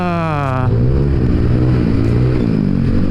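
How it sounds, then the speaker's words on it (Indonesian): A motorcycle engine revs on the road, loud and close, its rising pitch breaking off into a steady rough drone under wind noise. "Oh, ini motor ya, kencang kagak apa enggak ya, gerang-gerung"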